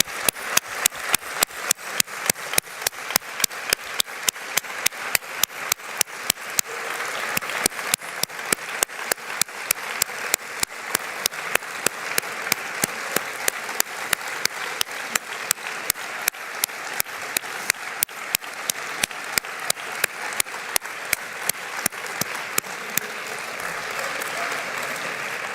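Audience applause at a closing plenary session of a European business network conference, steady and sustained across the whole stretch with sharp individual claps standing out from the dense wash of hands.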